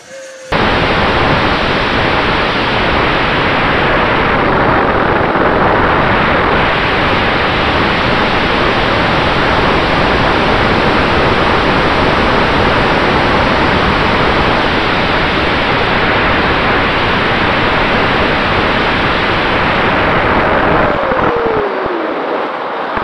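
A Freewing F14 Tomcat RC jet with FMS V2 Platinum upgrades flies at roughly quarter to under half throttle, giving a steady, loud, broadband ducted-fan roar that holds throughout.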